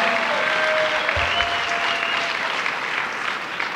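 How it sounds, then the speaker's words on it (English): A crowd at a New York Stands with Puerto Rico breakfast applauds Tish James with steady, dense clapping that holds at an even level for several seconds before easing slightly at the end. "Let's give her a round of applause."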